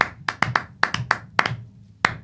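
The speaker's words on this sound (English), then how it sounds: "Clapping." A single person clapping irregularly, about nine sharp hand claps spread unevenly over two seconds, close and fairly loud with brief pauses between them.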